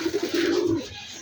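Rajshahi Giribaz pigeons, a colour-matched master pair, give a close, loud coo: a sustained murmuring call lasting under a second, then quiet, with no voices.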